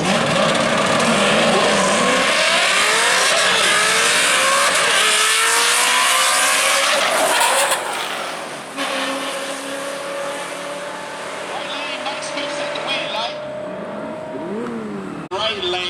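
At the drag strip, a Ford Coyote Mustang and a 2017 Dodge Challenger roar off the line together, loud engines climbing through their gears with tire noise. Then the pair fades into a quieter, more distant engine drone while an announcer talks over it.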